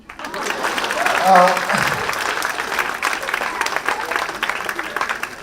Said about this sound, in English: This is the part you're supposed to clap.